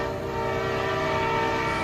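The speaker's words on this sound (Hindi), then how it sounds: "ट्रेन की आवाज भी अब तेज हो जाती है।" Train horn blaring loud and sustained as a train approaches, a steady rumbling tone used as a dramatic sound effect in a spooky story, with no talking.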